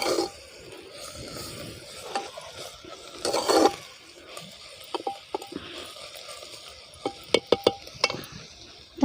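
A spoon stirs patri leaf vegetable together with soaked mung dal in a clay pot, giving soft wet scrapes and a few sharper clacks against the pot, close and moderately quiet.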